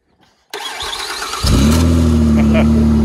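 Crashed Ford Fusion's engine cranks and fires up, settling into a loud steady idle after a brief starter whir, with voices heard before it catches.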